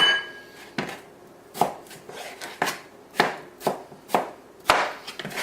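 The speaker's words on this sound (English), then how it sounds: "you can just cut your potatoes into any size you wish" Potatoes being chopped with a knife on a cutting board for beef stew: a steady series of sharp, close knife strikes, roughly one every half second, with no talking.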